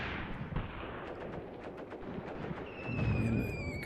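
Artillery shells landing in the tactical war game Graviteam Tactics: Mius Front: a steady low rumble of distant impacts with crackling bursts, swelling into heavier booms near the end as a thin whine rises above.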